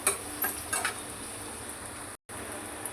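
Chopped okra and onion sauté in a pan with a soft, steady sizzle and a few light scrapes of stirring near the start. There is one brief dropout near the end.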